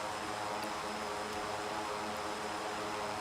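Exterior engine drone of a DHC-6 Twin Otter in the X-Plane flight simulator, a steady broadband propeller roar heard from outside the aircraft, fairly loud and unbroken, with no speech.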